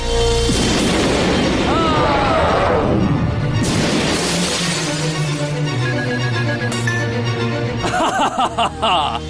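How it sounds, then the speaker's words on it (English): Dark Magician's Dark Magic Attack explosion effect from the Yu-Gi-Oh animated series: a loud, sustained blast with booming crashes and sweeping magical whooshes, layered with dramatic music and a shouting voice. "Dark Magician! Dark Magic Attack!"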